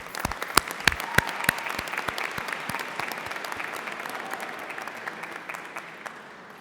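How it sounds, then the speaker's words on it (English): Applause at a university graduation ceremony: a burst of sharp individual claps at the start that settles into steady, moderately loud clapping from a large audience, tapering slightly toward the end. "I invite you to applaud them too"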